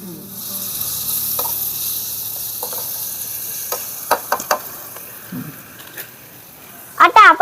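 Dried fish (sukat) mixture sizzling in a pan over a village wood-fired stove, with a quiet steady fry and several sharp scraping stirs of a spoon against the pan, louder toward the end.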